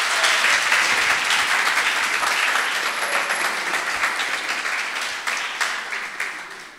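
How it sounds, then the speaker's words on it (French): Audience applause at a French-language talk event: dense, sustained clapping from a crowd, loud at first and gradually fading over several seconds. "invitez-nous à applaudir encore une fois"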